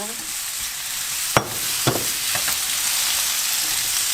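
Salted cucumber is stir-fried in a hot pan, giving a loud, steady sizzle with a few sharp spatula scrapes and clicks, no voices present.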